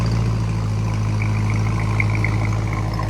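A BMW E90 M3 with the S65 V8 and a modified exhaust idles nearby, a steady deep rumble with an even low throb throughout.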